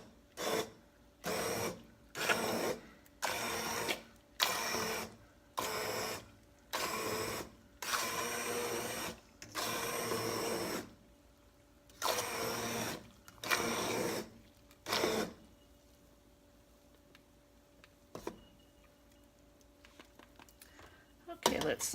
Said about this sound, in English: So this will get noisy, but I'm gonna just start blending this up a little to